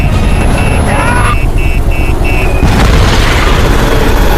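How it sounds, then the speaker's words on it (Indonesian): An explosive bracelet goes off in an action film: a series of electronic beeps runs ahead of a loud, broad boom that fills the rest of the clip. "Hanya dalam hitungan detik Brackle tewas meledak."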